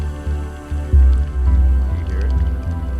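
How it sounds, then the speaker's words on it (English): Wet dripping and squishing sounds come through a live stream's audio, with soft irregular splashes and a low rumbling hum, a few sharper drops standing out over the steady background. "I hear water."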